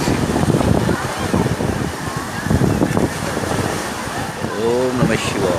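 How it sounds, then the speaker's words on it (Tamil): Sea waves roll in at Agni Theertham beach in Rameswaram, a loud surging wash with wind buffeting the microphone, while people talk nearby. "அக்னி தீர்த்த கடல்."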